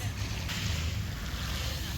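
Sea waves along the coast of Corfu island, a faint, steady wash of surf mixed with wind noise over a brief moment.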